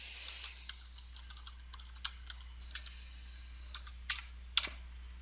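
Typing on a computer keyboard: a quick, irregular run of light key clicks with a couple of sharper strokes near the end, close and fairly quiet over a steady low electrical hum, with no talking.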